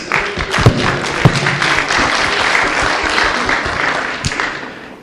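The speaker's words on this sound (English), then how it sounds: "Please give him a round of applause." Audience applause at a formal event in Thailand, a steady round of clapping filling the room with a few sharper claps standing out, sustained for several seconds and easing off at the end.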